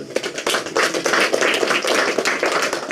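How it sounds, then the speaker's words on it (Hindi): Loud, dense audience applause at a Hindu satsang gathering, many hands clapping steadily and close for the full three seconds with no talk. "एक बार इनकी सच्चाई और इनकी हिम्मत के लिए जोरदार ताली।"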